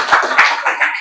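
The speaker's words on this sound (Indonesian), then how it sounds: "Tepuk tangan untuk semuanya." A classroom of students claps together, a short burst of a few loud, close hand claps that briefly stand out from a dense patter before fading.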